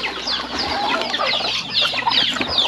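Free-range chickens on a farm clucking busily while eating yellow corn, a dense chorus of overlapping clucks and chirps at close range, steady throughout with no talk.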